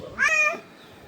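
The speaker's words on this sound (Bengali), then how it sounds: "বিড়ালে শুধু ডাকতেছে না" A single clear cat meow, close and fairly loud, rising then falling over about half a second, followed by quiet room background.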